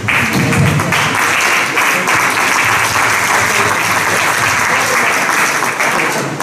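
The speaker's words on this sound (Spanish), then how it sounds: "Un aplauso, por favor." Steady audience applause at a heritage conference session in the Alagón valley, many hands clapping close and loud throughout with little variation.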